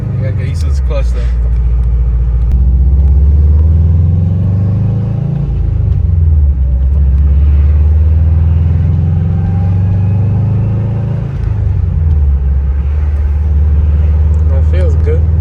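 A rebuilt Subaru WRX engine rumbles steadily from inside the car while driving, with a few rises and dips in revs as it changes pace, and people talk over it throughout.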